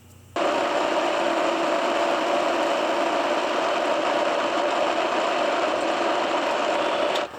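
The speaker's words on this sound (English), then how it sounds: "it's an MH2, which stands for milling machine horizontal," A Cincinnati MH2 horizontal milling machine fitted with a vertical attachment cuts steel, starting abruptly into a loud, steady whirring drone with a faint rhythmic knock, running evenly for about seven seconds before cutting off.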